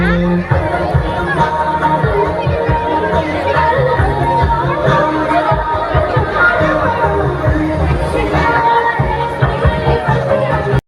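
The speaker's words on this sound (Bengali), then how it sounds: "আর এখানেও ভিড় ছিল।" A dense crowd chatters without pause at a Durga Puja pandal in Panchberia, with many overlapping voices and occasional louder shouts close by.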